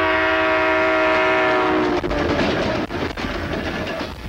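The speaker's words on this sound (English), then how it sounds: "a train suspected of carrying a payload of MX missiles rolls through the scenic Wyoming mountains" A train suspected of carrying MX missiles rolls through the Wyoming mountains, sounding a loud, sustained horn over a steady rumble and the rattle of its wheels.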